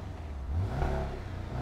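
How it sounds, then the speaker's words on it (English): Porsche 718 Cayman GTS four-cylinder engine revving briefly, a close, steady mid-pitched drone that swells in short blips of throttle. "So we are gonna show you the Cayman GTS engine that we're looking at today."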